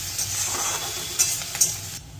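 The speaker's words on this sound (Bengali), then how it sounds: "এবারে এই স্লাইস করা পেঁয়াজটা দিয়ে দেবে, একটু ফ্রাই করে নিতে হবে।" Sliced onions and a bay leaf frying in hot oil, a steady hissing sizzle with two brief brighter spatters, close and without speech.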